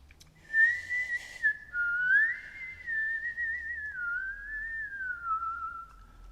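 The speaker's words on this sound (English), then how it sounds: "Something was whistling in the hole." A lone, eerie whistle drifts through darkness near a hole, one long wavering tone sliding slowly up and down over several seconds, clear and fairly close against faint low background noise.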